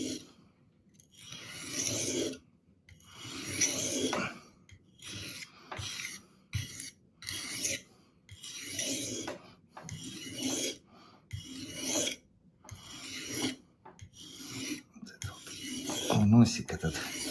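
A knife is sharpened on an old whetstone: repeated long rasping strokes, steady and close, each followed by short pauses, continuing alone with no voice.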